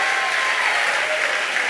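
A crowd at SpaceX applauds after the Bangabandhu Satellite-1 deployment: dense, loud, steady clapping fills the whole moment with no voices over it.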